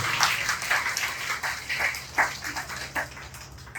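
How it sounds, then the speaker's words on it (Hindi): An audience claps for students at a school Independence Day programme, a soft, steady patter of many hands sounding somewhat distant and continuous throughout. "उसके लिए भी एक बार आप लोग ताली बजाइए"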